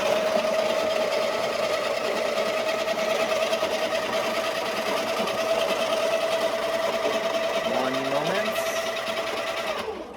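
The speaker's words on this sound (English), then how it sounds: "while the grinder is grinding the beans" Coffee grinder grinding beans, a loud continuous whirring buzz held steady for several seconds before winding down near the end, with no talking over it.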